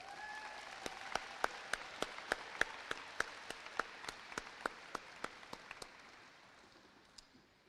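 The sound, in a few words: graduation ceremony audience applause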